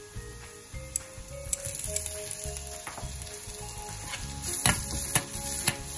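Onion and other pizza sauce ingredients fry in a pan with a soft continuous sizzle, broken by intermittent scraping stirs and small clinks, close by and without talk.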